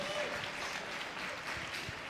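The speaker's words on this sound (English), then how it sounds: "I'll take a couple claps" An audience at a CWC combat-sports event of wrestling and jiu-jitsu claps in a steady, moderate wash of applause, with a voice speaking over it.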